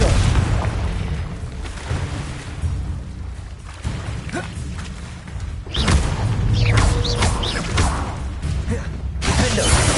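In Hogwarts Legacy, a Confringo spell goes off with booming, shattering blasts and whooshes amid a dense, loud battle soundscape, with several heavy impacts across the stretch.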